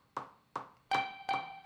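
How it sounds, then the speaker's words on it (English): Four dry electric guitar notes are picked as eighth notes with the delay effect switched off. Each is a short, clean pluck that fades quickly, evenly spaced and played alone, the last two ringing with a brighter tone. "If I turn off the delay, it sounds like this."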